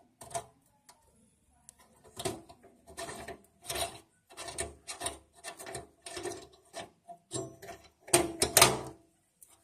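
Gas stove burner being unscrewed, with short rasping metal scrapes and rubbing bursts in an irregular rhythm, close and fairly quiet, separated by brief silences.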